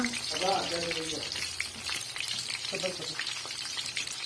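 Tomatoes frying in a pan for pulao give a steady, close sizzle and hiss throughout, while someone talks briefly over it.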